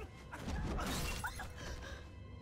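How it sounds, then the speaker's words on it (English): A man shattering like glass in the film Eclipse, a loud, dense crash of breaking glass fragments that fills the clip and trails off into scattered tinkling, with no voices over it. "That guy just shattered like glass"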